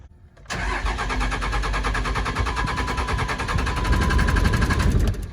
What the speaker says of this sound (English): the truck won't start